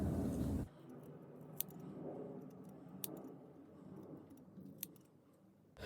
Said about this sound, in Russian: И теперь аккуратненько я делаю ножницами, чтобы они были все одинаковые.